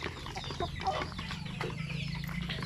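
Hens and two roosters in a backyard chicken coop cluck and murmur continuously, with scattered louder calls rising over the flock's low chatter.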